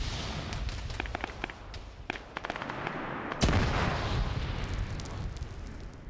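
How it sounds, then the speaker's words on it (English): Two anti-tank rocket shots from AT4 launchers in an Arma battle over Fallujah, heard as sharp blasts: a lighter crack, then a heavy boom with a long rumbling tail over background gunfire. "I heard 2 AT shots."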